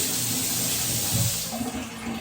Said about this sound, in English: it's a nice stream of water. And it's an easily adjustable head.